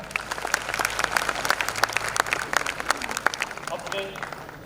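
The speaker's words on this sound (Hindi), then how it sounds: "जोरदार तालियों के साथ इनके इस भाव के लिए तालियां बजाएं" Applause from an audience at a school Independence Day celebration, dense steady clapping from many hands that thins out and fades toward the end.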